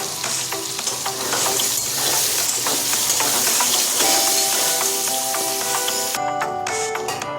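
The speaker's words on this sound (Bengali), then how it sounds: "এই তেলে আলুগুলো দিয়ে দিলাম। এবার আলুর মধ্যে পরিমাণ মতো নুন আর হলুদ দিয়ে ভালো করে মিশিয়ে" Potato pieces frying in oil with salt and turmeric, stirred steadily, giving a loud continuous sizzle with clinking stirring strokes throughout and no voices.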